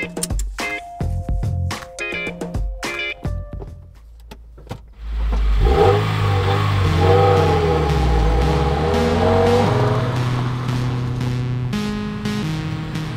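A 2020 Subaru WRX sedan in Series.White trim, first a burst of clicks and cabin clatter, then the engine pulls away and drones steadily from inside the car, with rising and shifting tones as it accelerates.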